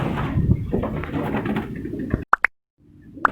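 A Shirazi khal pigeon from a breeder pair gives two short, sharp coos after a stretch of busy background noise, followed by quiet and then a faint return of ambient sound.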